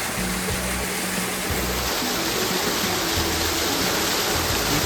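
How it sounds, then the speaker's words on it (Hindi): Water rushes steadily beneath an old panchakki water mill, its flow turning the grinding stone that mills wheat into flour; a loud, continuous broadband roar with a low rumble, close by and unbroken throughout. "नीचे इसके पानी बह रहा है"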